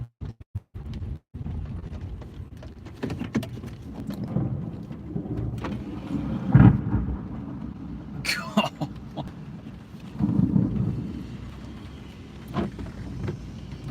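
A thunderstorm during storm chasing in East Tennessee delivers low, rolling thunder rumbles and steady rain noise, with a few sharp cracks and bursts rising over a continuous background wash.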